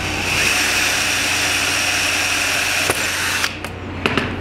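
Drill with a 1/8 inch bit boring a hole for a rolling ball sculpture lift, a steady loud whine running the whole time, ending in a few sharp clicks and knocks.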